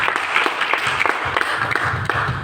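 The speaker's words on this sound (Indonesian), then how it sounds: "Tepuk tangan untuk kesalahan." A church congregation claps during a sermon, a short burst of many hands with some rhythmic accents and a low murmur of voices underneath.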